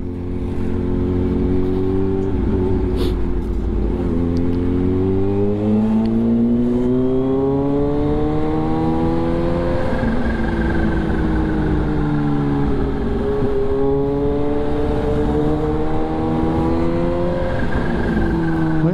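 A Kawasaki Z H2 motorcycle engine revs and climbs steadily through the gears, loud and continuous, with rising and falling pitch sweeps as it accelerates.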